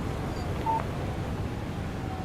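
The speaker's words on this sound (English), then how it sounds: "Text message from Barry." A short phone alert tone for an incoming text message in Alan Wake Remastered sounds once over a steady low ambient game background, with no talk.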